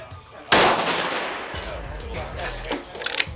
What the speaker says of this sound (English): Take two shots at it.